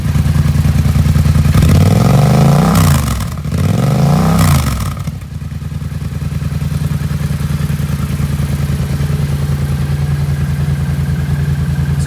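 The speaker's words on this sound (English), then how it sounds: "So we're gonna let this bike run for a good few minutes and observe and see if any leaks start to develop." The engine of a 2016 Yamaha MT-07 motorcycle idles after an oil change, a loud, steady, close throb broken by two brief revs early on, then settling into an even idle.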